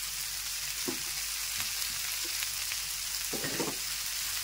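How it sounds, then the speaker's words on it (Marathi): Ivy gourd stir-fries in a pan, a soft steady sizzle with a few scattered scraping stirs, the loudest burst near the end, heard close. "छानपैकी आपण असं हलवून घेऊया हा पूर्ण भाजी"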